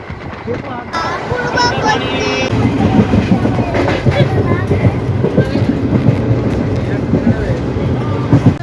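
A passenger train travelling from Arambag toward NJP rumbles steadily with rhythmic clickety-clack of wheels on rails, loud and continuous, with voices talking inside the carriage throughout.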